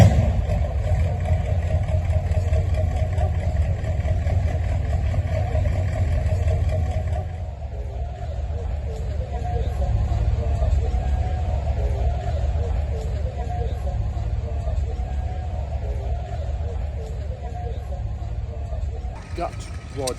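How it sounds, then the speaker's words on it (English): A 1931 Ruston Hornsby engine at a tractor show runs with a steady low thumping rumble throughout, heard under continuous talk and outdoor show ambience. "This is Tom's Rushton Hornsby 1931 engine."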